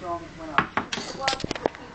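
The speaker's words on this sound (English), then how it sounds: "So add the cheese sauce and mix it up as well." Cheese sauce being mixed into a tuna pasta bake, a quick series of close spoon knocks and clinks against the bowl with soft wet scraping between strikes, uneven in rhythm.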